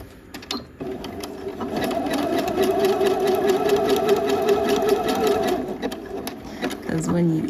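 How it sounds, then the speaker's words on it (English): A sewing machine back stitches elastic onto fall joggers, running in a steady fast mechanical whir for several seconds between short pauses, with a person talking nearby. "I'm going to continue to back stitch all the way. And then all the way back down."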